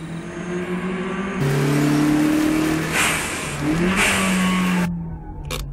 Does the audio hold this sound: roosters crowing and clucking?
no